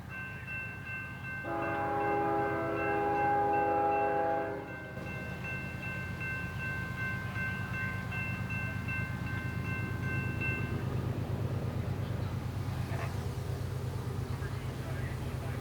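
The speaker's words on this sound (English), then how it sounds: "we have an intermodal train coming" An intermodal freight train approaches and passes in Chesterton, sounding a loud multi-tone horn blast for a few seconds, then a steady rolling rumble of wheels on rails that continues to the end.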